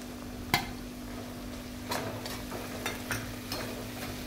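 Softened onion with spices and salt fries for pav bhaji, giving a low, steady sizzle with a few spoon clinks and stirring knocks against the pan.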